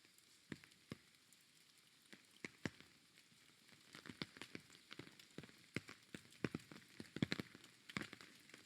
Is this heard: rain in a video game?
yes